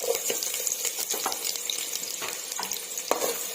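Sliced onion sizzles in hot ghee with spices for a Nellore-style meal maker tomato biryani, a steady soft crackle broken by occasional stirring scrapes, close and fairly quiet.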